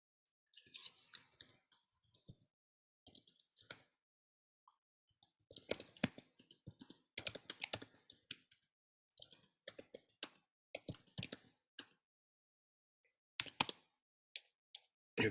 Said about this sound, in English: I'm going to type something over here.